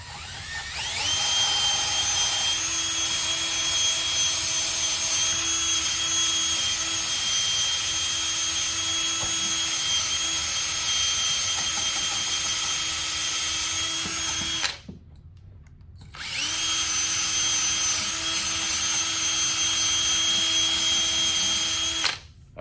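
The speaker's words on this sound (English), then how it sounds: "I'll take my wire wheel and just clean the rest of the shaft up." A wire wheel spins against the shaft of a water meter cartridge to clean it. It gives a loud, sustained high whine with grinding texture, cuts out for about a second, then runs again until the end.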